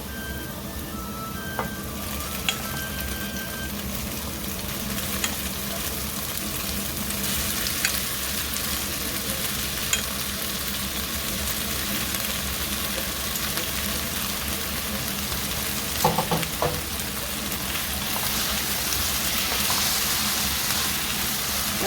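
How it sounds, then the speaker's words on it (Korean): Noodles stir-fried in a wok with sautéed onions and onion oil for jajangmyeon, a continuous loud sizzle with scattered clicks and scraping stir strokes, and a burst of clanking around two-thirds through. "이렇게 양파 잘 볶아놓은 거에 이제 여기다가 면을 어, 넣어주시면 돼요"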